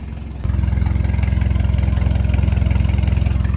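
A Mitsubishi Triton with a new full exhaust idles briefly, then its engine climbs into a loud, steady rev, a deep pulsing drone that holds close and strong to the end.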